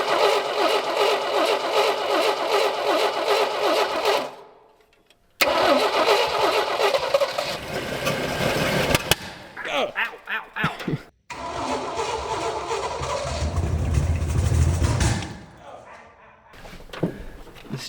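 An AMC Rebel car engine, abandoned for 35 years, cranks and catches in several attempts, with sputtering, revving and stalling between bursts, heard close and under people talking.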